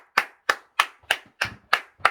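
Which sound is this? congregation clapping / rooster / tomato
congregation clapping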